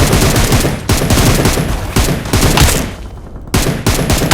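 Gunfire in the mobile battle royale game PUBG Mobile: dense, loud automatic bursts in rapid succession with a short lull near the end before firing resumes, with no talk.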